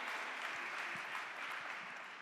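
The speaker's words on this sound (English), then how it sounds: "Big applause for Blai." Steady crowd applause at a startup pitch competition, a dense wash of clapping that holds at an even level throughout with no break.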